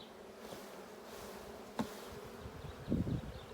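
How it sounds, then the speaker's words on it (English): A steady, close insect buzz from many honey bees on a hive frame, continuous throughout with a couple of brief louder bumps. "You can see the amount of bees on this, it's just incredible."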